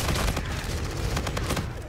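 Rapid gunfire in the video game Call of Duty: Infinite Warfare, a dense sustained burst of automatic shots that is loud and close throughout, with no talk over it.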